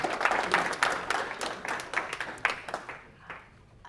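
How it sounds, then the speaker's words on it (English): A modest audience at a semiconductor and AI innovation forum gives sparse, uneven clapping that tapers off, with individual claps standing out and fading away. "please give yourselves a round of applause"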